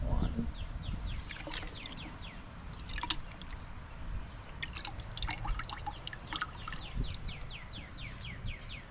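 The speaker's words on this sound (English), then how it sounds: "Dip it in the water." A seashell is dipped into water after a muriatic acid cleaning, giving soft drips and trickles over a steady background, with bird chirps and a voice talking nearby.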